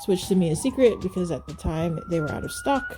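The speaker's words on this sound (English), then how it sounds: "Sorry for the siren in the background." A distant siren wails steadily under a woman's close, continuous talking, its tone rising slowly.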